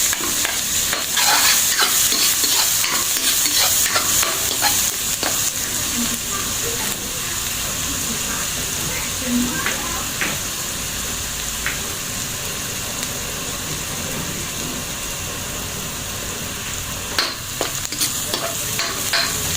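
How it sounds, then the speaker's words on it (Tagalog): Crushed garlic frying in melted butter in a pan, a steady bright sizzle with intermittent stirring scrapes and clicks, close and continuous, a voice talking briefly at moments. "Pagka natunaw na yung butter natin mga boss, mga kanggol, same procedure. Salang natin yung ating dinurog na bawang."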